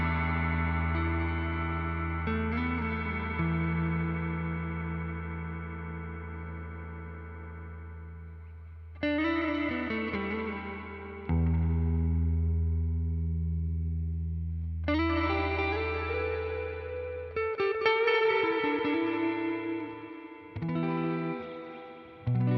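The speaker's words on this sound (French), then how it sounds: "On sent bien la reverb à ressort qui ressort." Guitar notes and chords ringing through the spring reverb of a Strymon blueSky Reverberator pedal, each struck phrase blooming and decaying with a splashy, drippy tail, several separate attacks across a long stretch, no talking.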